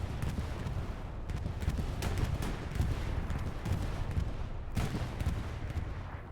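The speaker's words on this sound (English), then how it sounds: "An Axis bombing run." An Axis bombing run in the World War II video game Hell Let Loose on Juno Beach, a dense, rumbling barrage of explosions and gunfire rolling on continuously, with a couple of sharper blasts standing out.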